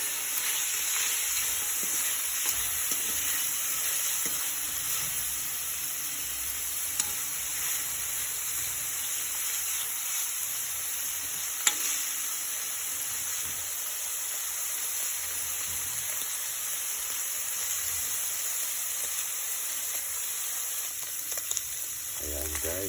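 Meat frying in a home kitchen pan gives off a steady, even sizzle across the whole stretch. The crackle runs continuously, with a few faint clicks from utensils.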